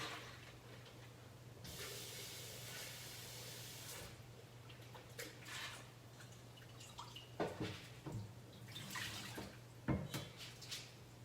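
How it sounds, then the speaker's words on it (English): Soaked lentils are rinsed under running water, a soft steady hiss of flow with scattered drips and splashes, quiet and close, no talking. "After you've soaked your lentils for a good 2 hours, you want to basically rinse this off"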